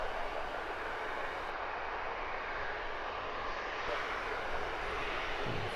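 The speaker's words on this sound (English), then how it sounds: "That Ryanair slightly late touchdown, giving us that glorious burnt rubber smell." A Ryanair airliner lands at Luton Airport, giving a steady broad roar of jet engines and rushing air, moderately distant and even in level throughout, with no talk.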